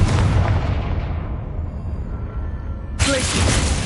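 A Confringo blasting spell in Hogwarts Legacy bursts as a heavy booming explosion that rolls and fades over about two seconds, followed by a second sharp blast near the end.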